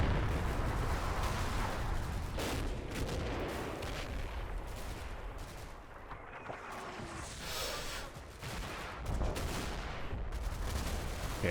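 Dense gunfire and booming blasts rumble continuously in a Combat Mission: Battle for Normandy battle, machine gun fire mixed with heavy explosions, distant and layered without pause.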